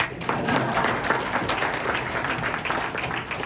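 An audience claps at a felicitation ceremony during a Kannada speech, a dense steady patter of many hands that stays fairly loud and even from start to finish.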